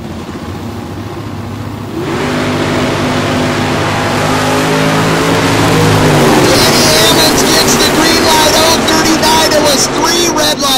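An 81 Camaro and a 63 Corvette launch off the drag-strip start at Tulsa Raceway Park, engines idling low, then roaring loudly as they accelerate away with rising revs.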